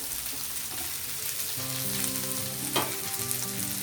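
Fresno pepper hitting a pan of frying mushrooms gives a steady, close sizzling crackle. A faint low hum sits underneath the whole time.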